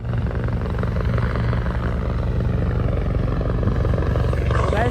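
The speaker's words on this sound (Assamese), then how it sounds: "আমি যাওঁগৈ হেলিকপ্টাৰখন আহিলে" A helicopter's steady rotor thrum and engine drone, loud and continuous, with no voices, near a zoo in Miao, Arunachal Pradesh.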